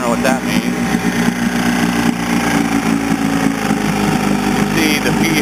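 A running engine held at a rough, low idle, a steady loud drone with a low uneven throb sustained throughout, with no one talking over it.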